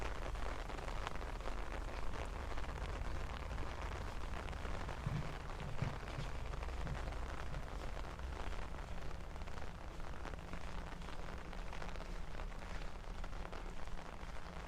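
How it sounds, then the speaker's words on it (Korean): Heavy rain drums steadily on an umbrella during a walk along Sinricheon stream in Mokdong, a dense, loud, unbroken patter of drops with no voices. "빗줄기가 좀 더 세서 이제 우산을 쓰고 있는데도 꽤 빗방울 부딪히는 소리가 시끄럽게"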